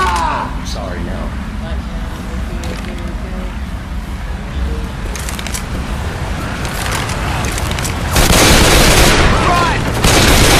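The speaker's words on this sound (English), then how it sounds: "We got to stop shooting." Dense, nearly continuous gunfire in the zombie shooter Left 4 Dead 2, a loud close mix of shots and blasts that thickens toward the end, with voices talking over it.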